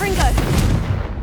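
A Confringo spell blast from the Hogwarts Legacy video game, a short loud burst with a rumbling tail lasting about a second, with a brief voice-like tone at the start.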